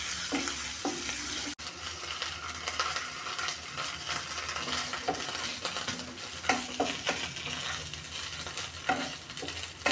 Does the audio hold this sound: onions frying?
yes